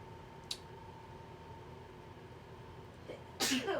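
A single loud sneeze bursts out near the end after a quiet stretch with a faint background hum and a small click.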